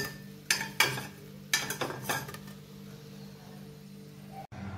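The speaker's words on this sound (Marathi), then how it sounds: "बाकीचे जे उरलेले काप आहेत ते अशाच पद्धतीने चांगल्या तुपात आपल्याला भाजून घ्यायचे आहेत" Bread slices fry in ghee in a pan: a low steady sizzle under several sharp clinks and scrapes of a utensil against the metal, then a quieter stretch with a brief clatter at the end.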